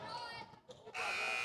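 A buzzer sounds to end the third quarter of a high school girls' varsity basketball game, a loud sustained electronic tone that follows a brief flurry of gym noise, with an announcer talking over the court.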